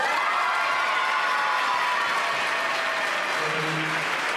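An audience at the Miss Saône-et-Loire 2014 pageant applauds the runner-up with dense, continuous clapping and some cheering, loud and sustained throughout.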